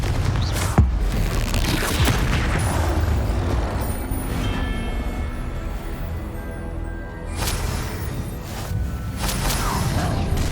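Fire spell blasts from Confringo casting in the Hogwarts Legacy video game, a dense, continuous rumble of booms and whooshes with a sharp hit near the start, loud throughout with game effects layered on top.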